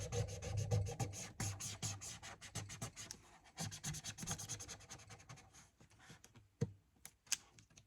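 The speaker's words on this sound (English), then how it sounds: "I'm just going to use my ruler here and rub it off" A plastic ruler rubbed back and forth over a craft transfer on paper, giving quiet close scratchy strokes in quick bursts that thin out and end with a few sharp taps.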